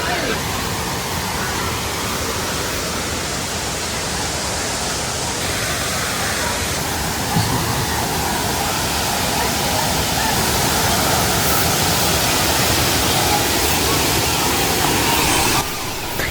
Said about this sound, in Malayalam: ഒരു 50 അടി താഴ്ചയിലേക്ക് വെള്ളം വരുന്ന കാഴ്ച ഉണ്ടല്ലോ